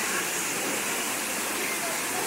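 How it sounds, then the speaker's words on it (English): Waterfall in a bird aviary at Xcaret, Mexico: a steady, full rushing roar of falling water, continuous and fairly close, with no break. "Waterfall."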